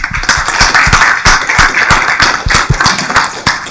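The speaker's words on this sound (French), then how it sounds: "On peut l'applaudir" An audience at an academic conference session on press history claps after a talk, with a loud, close burst of individual claps in a lively, uneven rhythm and no speech over it.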